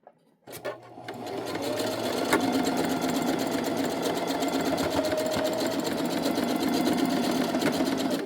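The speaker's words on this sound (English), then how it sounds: "I'm going to stitch a quarter to 3/8 inch seam is good." A sewing machine stitches a 1/4 to 3/8 inch seam on an unlined tote bag, starting with a click and then running as a steady, close whirring hum for several seconds without speech.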